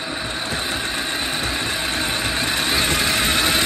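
An Axial SCX6 RC crawler runs with its gearbox packed with grease and the cooling fan removed, giving a steady, fairly loud motor hum and whir that holds unbroken throughout without voices.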